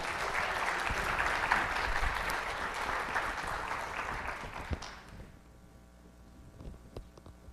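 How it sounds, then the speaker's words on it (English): A ceremony audience applauds at a new teacher induction, sustained clapping that runs strong for about five seconds and then tapers off abruptly into a quiet room with a few scattered claps. "Let's give him one more round of applause."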